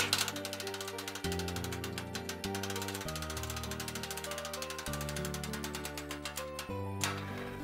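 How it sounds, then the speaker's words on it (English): A ratchet winch tightening a thoracic traction belt, steady rapid clicking of the pawl in long runs with small shifts in pitch, close and fairly loud. "And then we'll tighten it using the ratchet winch."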